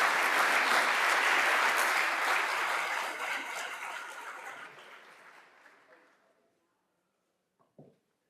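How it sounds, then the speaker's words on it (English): Applause from a conference audience swells loud and full, then gradually thins and fades away over about six seconds, leaving near silence broken by a couple of faint knocks. "Please give them a warm round of applause."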